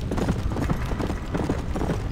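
Hooves of an undead horse in Red Dead Redemption, a steady, close clip-clop of hoofbeats at a brisk gait, loud and continuous over a dense game soundscape.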